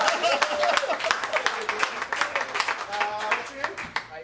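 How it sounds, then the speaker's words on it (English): An audience at a family-friendly comedy show claps for a volunteer, with scattered, fairly faint individual claps in an uneven rhythm and a voice speaking over them. "I'm the only one clapping for him?"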